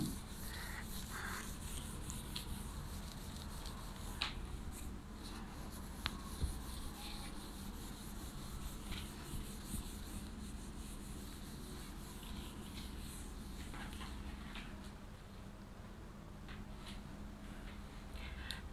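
An eraser rubs writing off a classroom board with a steady, soft scratching swish, in short repeated strokes and occasional taps, close by and fairly quiet.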